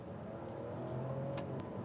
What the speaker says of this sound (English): And the inline-6 engine is definitely quieter. If I floor it,